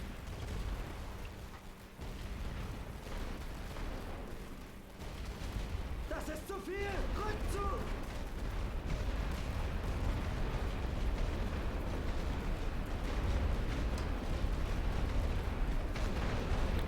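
Artillery fire in the World War I strategy game The Great War: Western Front, a dense continuous rumble of distant booms and bursts that runs under steady battlefield noise throughout.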